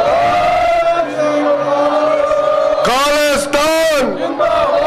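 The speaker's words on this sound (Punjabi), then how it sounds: "ਆਪਾਂ ਜਕਾਰਾ ਲਾ ਕੇ ਉਹਨਾਂ ਨੂੰ ਪ੍ਰਵਾਨਗੀ ਦੇਈਏ" A large crowd at a London Sikh remembrance march and freedom rally in Trafalgar Square raises a loud, sustained jaikara war cry in two swelling bursts, mixed with amplified voices over a constant outdoor din.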